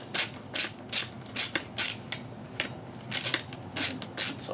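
A wrench loosening the axle nut on a kid's bike wheel, a series of about a dozen quick, quiet metallic clicks and ratcheting scrapes in an irregular rhythm, close by and alone.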